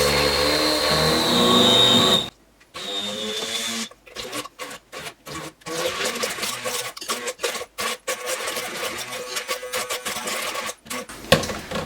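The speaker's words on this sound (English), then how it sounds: "I'm going to use my immersion blender in here to kind of blend this up a little bit." An immersion blender whirs through half a cup of cream, a loud steady motor drone for about two seconds, then repeated short bursts switching on and off.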